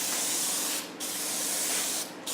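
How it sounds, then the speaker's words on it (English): Clear coat sprayed onto an A-10 scale model from a can or airbrush, a loud continuous hiss broken by two brief pauses between passes, nearby and without speech. "So I go ahead and spray"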